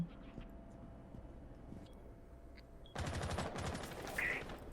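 Rapid gunfire bursts erupt partway through a competitive team video game match, loud and sharp after a quieter stretch of low background noise.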